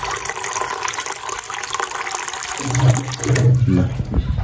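Water gushes and splashes steadily into a cooking pot for noodle soup, growing fuller and louder toward the end, under background household noise.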